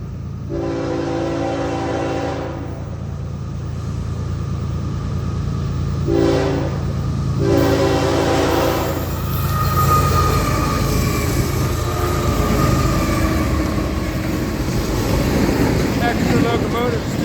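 An FEC freight train sounds its horn in a salute at a St. Augustine, Florida crossing: a long loud chord, then a short blast and another sustained blare, over a rumbling locomotive that grows into a passing roar, with people talking nearby.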